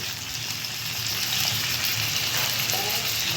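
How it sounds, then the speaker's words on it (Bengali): Pumpkin and potato frying in a pan, heard as a dense, loud, steady sizzle close up for a few seconds with light stirring underneath. "কুমড়োর সাথে আলুটা আর একটু ভেজে নেব"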